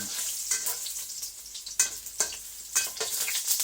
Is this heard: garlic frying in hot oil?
yes